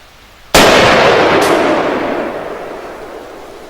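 A Browning MK3 rifle chambered in .30-06 Springfield fires one loud, sharp report that rings out in a long, slowly fading echo, followed about a second later by a fainter secondary crack.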